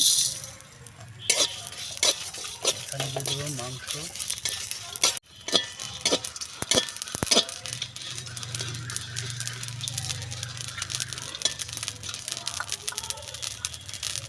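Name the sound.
whole spices (dry chilli, cardamom, clove, cinnamon) frying in oil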